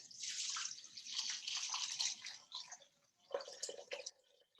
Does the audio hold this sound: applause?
no